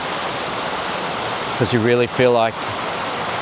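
Steady broadband rush of water flowing through a garden waterfall or stream in a wildflower garden, constant and fairly close, with a person talking briefly over it midway.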